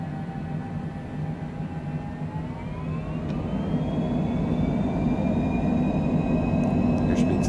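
Airplane engines spool up during a takeoff roll from Mazatlan, a steady roar that swells in loudness as rising whines climb higher, heard from inside the aircraft with no talking.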